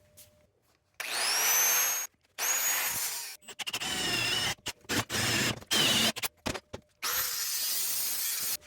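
Sheet metal being cut for a gas tank filler neck: loud bursts of harsh, whining cutting noise in several runs of varying length, separated by short silences.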